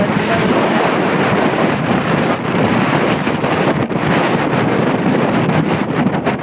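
Strong, steady wind roaring and buffeting the microphone on the summit of Mount Washington, loud and continuous with brief gusty dips and no voices.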